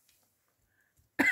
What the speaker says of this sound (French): j'ai la toux qui s'est invitée